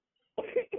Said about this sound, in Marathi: खोकलू नको